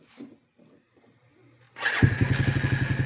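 A motorcycle engine starting after repair work in a shop, cranking to life at once into a loud, steady, throbbing idle close by, following a few quiet seconds of faint background sounds.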